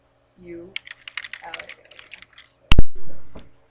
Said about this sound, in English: I'm not typing very well